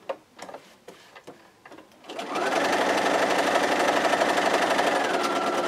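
Sewing machine stitching a raw edges quilt square, a few faint clicks and handling sounds first, then a loud continuous run of rapid stitching up close with no talk.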